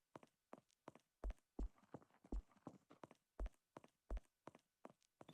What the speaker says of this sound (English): You hear the pitter patter of my footsteps